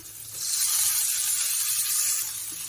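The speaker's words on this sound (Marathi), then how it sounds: "आता हे सगळं असं फ्राय करून घेते" Vegetables frying in oil in a pan, a steady loud bright sizzle that swells after a brief quieter start and holds evenly, with no talking.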